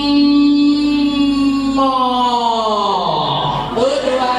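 A group of people imitating a cow's moo in unison during a storytelling workshop, a long sustained drawn-out voiced 'moo' that slides downward in pitch toward the end, loud and close.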